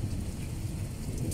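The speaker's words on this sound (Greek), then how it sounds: "Είναι έντονο το φαινόμενο με τις επικίνδυνες ηλεκτρικές εκενώσεις, το σφοδρό αέρα, τη σφοδρή βροχόπτωση." A thunderstorm with heavy rain and wind pounding the village of Soca in Romania, heard as a steady, dense wash of rainfall with a low rumbling undertone that holds even and loud throughout.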